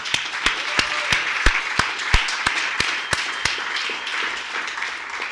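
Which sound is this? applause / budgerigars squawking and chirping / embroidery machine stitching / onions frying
applause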